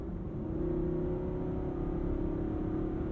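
A 2022 Nissan Armada with a 400-horsepower V8 accelerates hard from inside the cabin, a steady low engine drone and road rumble holding strong and even for a few seconds with no talk.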